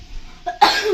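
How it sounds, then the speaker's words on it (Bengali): A single short cough bursts out near the end after a brief throat sound, close and fairly loud in an indoor home setting. "এত কাশি কি করে হলো?"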